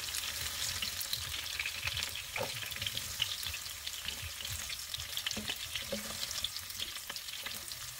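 Ingredients for a creamy chicken curry frying in oil in a wok until light brown, a soft, steady crackling sizzle with occasional stirring scrapes, fairly quiet and without speech.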